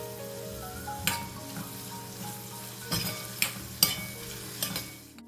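Onions frying in a pan with steady sizzle, stirred now and then, with a few sharp scrapes of a spoon against the metal standing out over the continuous hiss.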